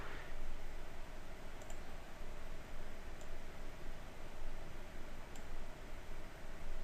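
Faint, sparse computer mouse clicks during drawing work in Illustrator, a few isolated sharp ticks over a steady hiss of background noise.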